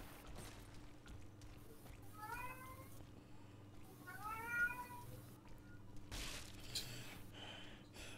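A cat meows twice in quick succession, two clear rising calls at moderate distance over a steady background hum, in a quiet indoor setting.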